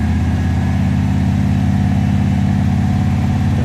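Idling engine of a classic Daimler SP250 sports car, a steady low rumble running evenly and loudly throughout with no voices.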